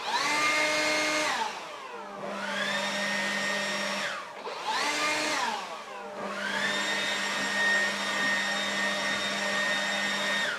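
A Ryobi 40V cordless leaf blower runs without turbo, giving a steady whining motor roar that spins up and down twice, close and loud with a constant tonal hum.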